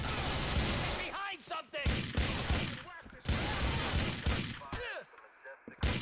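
Rapid bursts of gunfire in the video game GTA 4, loud repeated volleys in quick succession with short pauses, a voice talking between shots.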